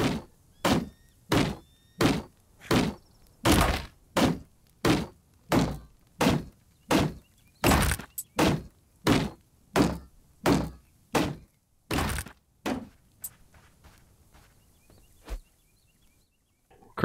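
Crowbar strikes smashing objects in the video game Dysmantle: about eighteen loud, evenly spaced heavy thunks at a steady rhythm, stopping near the end with one last faint knock.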